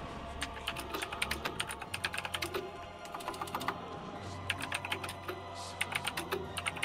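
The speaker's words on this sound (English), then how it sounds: "my typing is so loud on your stream" A computer keyboard typed on continuously in quick, uneven bursts of clicky keystrokes, fairly close and fairly quiet, with a low hum underneath and no talking.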